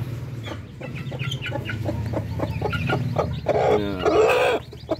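In a chicken yard, newly hatched chicks peep and chickens cluck in a busy mix nearby, with a louder burst of squawking near the end.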